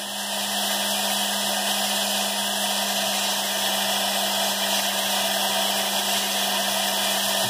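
A rotary tool with a coarse bit grinds Deer Creek fire agate, giving a steady, continuous high whine with a constant hum underneath, close and alone without speech.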